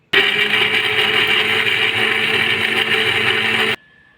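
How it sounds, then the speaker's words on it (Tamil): A kitchen mixer grinder whirs loudly and steadily as it grinds tomato, onion, ginger, garlic and coconut in its jar, then cuts off abruptly near the end, leaving near silence. "தக்காளி, வெங்காயம், இஞ்சி, பூண்டு, தேங்காய் இது எல்லாத்தையும் ஒன்றா மிக்ஸி ஜாரில் போட்டு அரைச்சிக்கலாம்"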